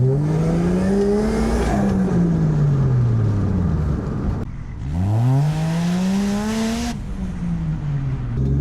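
Toyota Cefiro with a 1JZ engine pulling hard from inside the cabin, revs climbing steeply twice with a sharp drop and gear change between, loud and close with no talking.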